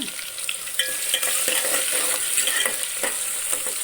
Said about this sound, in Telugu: ఇప్పుడైతే ఆవాలు వేసుకున్నాను వేగుతుంది ఇంకైతే టమాటా ఇవన్నీ వేస్తున్నాను